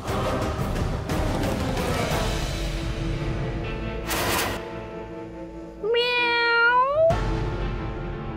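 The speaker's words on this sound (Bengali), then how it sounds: "বিড়ালের শব্দ?" A single drawn-out, rising and falling cat meow comes clearly near the end, after a stretch of steady indoor background noise and a brief hiss.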